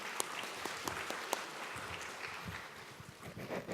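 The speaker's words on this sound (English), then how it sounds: "she deserves another round of applause" Audience applause at a Vietnamese American meetup plenary session, a fairly faint, steady patter of many hands clapping that thins out toward the end.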